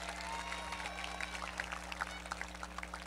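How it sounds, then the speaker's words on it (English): High school graduation crowd applauding a speaker, a busy patter of clapping with a few whoops, fairly faint, over a steady low hum. "Let's give one more round of applause to Virgie Jones"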